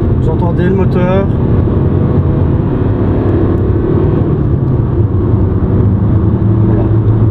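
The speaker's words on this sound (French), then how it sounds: "Vous entendez le moteur." A Mercedes-Benz CLA Shooting Brake 180d with a 109-horsepower diesel engine accelerates through third gear, producing a loud, steady engine drone heard from inside the car, with a brief voice near the start.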